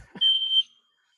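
A single sharp, high-pitched electronic beep from a smoke alarm, lasting about half a second, then silence.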